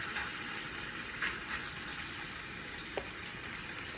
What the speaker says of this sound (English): The bubbly butter, look at that. It's sizzling, I can hear it now.